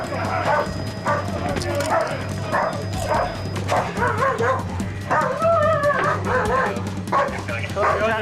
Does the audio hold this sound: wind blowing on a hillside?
no